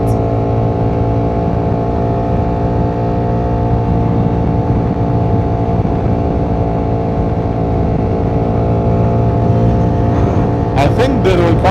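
A Ducati Panigale V4 motorbike being ridden, its engine a loud, steady drone held at a constant pitch throughout, with a short burst of harsher noise near the end.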